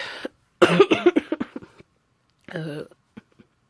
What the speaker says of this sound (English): sorry, I'm coughing like crazy.